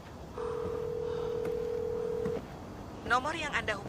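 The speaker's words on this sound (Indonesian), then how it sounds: "Lalu dia pun menelpon seseorang." A phone dials out, with a steady dial tone for about two seconds and a few faint keypad beeps, followed by a recorded voice starting to speak.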